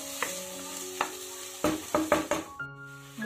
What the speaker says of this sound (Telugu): ఉల్లిపాయల్ని ఇలా బాగా కలపాలి. ఇవి గోల్డెన్ కలర్ వచ్చే వరకు వేపాలి.